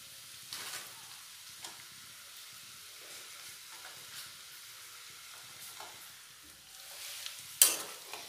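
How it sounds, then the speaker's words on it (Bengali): Potatoes frying in a pan with chopped onion and slit green chillies give a faint, steady sizzle, broken by a few soft stirring scrapes and one sharper clatter near the end. "এই পেঁয়াজ আর কাঁচা লঙ্কার সাথেও আলুগুলো একটু ভেজে নেব"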